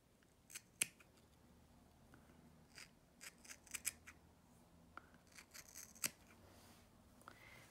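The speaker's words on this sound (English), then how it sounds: "and I want to cut right here" Scissors snipping through knitted steek stitches, a handful of quiet, crisp irregular cuts spaced over several seconds against faint background hush.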